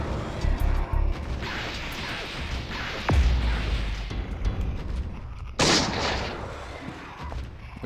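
A gunshot in the Eternal Darkness video game cracks loudly once amid a dense, rumbling game soundscape, followed later by a second burst of noisy impact.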